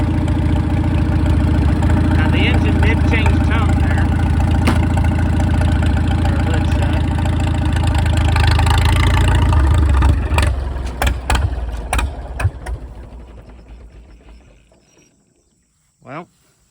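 A Farmall tractor engine running on a 50-50 mix of used oil and gasoline, a loud steady low rumble that falters, changes tone and dies out, followed by a few faint clanks near the end.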